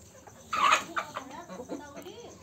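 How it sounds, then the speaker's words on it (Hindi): A Java rooster clucks in several short, fairly loud bursts, with a strong opening call and softer clucks following, close by on a poultry setup. "ये देखिए मेरा जावा मुर्गा"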